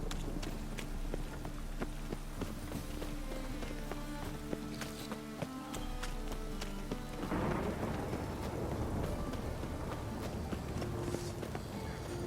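Rain hisses steadily in The Witcher 3 while horse hooves clop in the foreground, and a low rumble of thunder swells in the second half.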